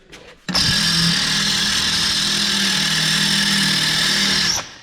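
A power drill whirs steadily at high speed for several seconds in a welding workshop, close and loud, starting abruptly and cutting off at the end.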